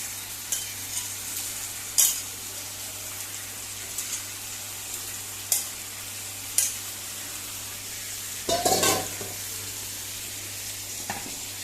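Chicken hearts fry in a pan for a Goan dish, a soft steady sizzle broken by several brief scraping stirs, with a louder burst of stirring and clatter near the end; no talking.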